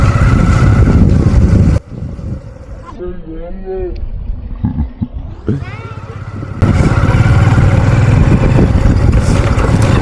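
A motorcycle rides along a rough road, its loud engine and wind roar filling the opening seconds, dropping away while someone talks, then surging back loud and steady to the end.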